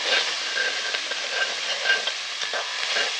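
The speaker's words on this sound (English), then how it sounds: "Just give them a bit of a stir as you're going" Curried sausages stirred in a hot pan over a fire give off a steady sizzle and hiss, with soft scraping pulses from the stirring, close and alone without talk.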